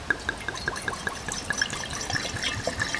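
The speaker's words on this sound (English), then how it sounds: "but I'll pour it this way anyway, it's an experiment" Homemade grape juice alcohol solution, made from three-year-old grape juice, is poured in a thin trickling stream with quick splashes and drips, close and fairly quiet, with no talking.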